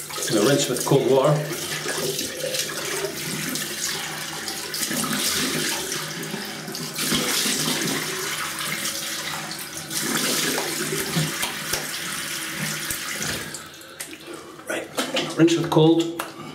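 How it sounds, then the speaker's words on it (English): Tap running cold water into a sink for rinsing during a wet shave, a steady close rush of water with someone talking over it. "I'm going to rinse with cold water."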